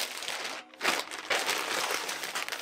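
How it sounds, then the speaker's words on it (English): Plastic bag crinkling and crumpling as a laptop battery is wrapped in it, a close, continuous rustle with a brief pause then a louder burst of handling noise. "So I'm just gonna put it in the plastic bag like this."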